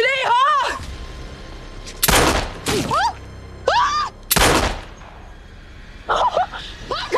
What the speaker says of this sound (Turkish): Hakan Bey vurdu. Betül vurdu, Betül.